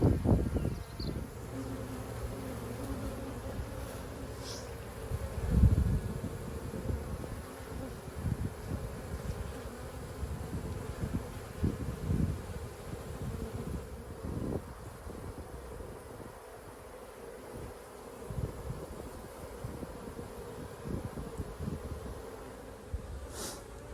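A honeybee swarm being hived in a home beeyard makes a steady, dense buzzing drone that runs continuously with slight swells, close to the microphone, with light wind noise and no talking.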